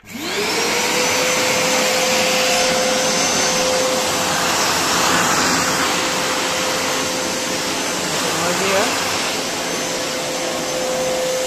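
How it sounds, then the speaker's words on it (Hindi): Eureka Forbes Trendy wet and dry vacuum cleaner switching on and spinning up to a loud, steady whine and roar that holds continuously, close by, with a brief shift in pitch near the end. "तो इसको चला के देखते हैं चलाने के लिए कुछ नहीं ये स्विच आपको दबाना है और मशीन स्टार्ट हो जाएगा"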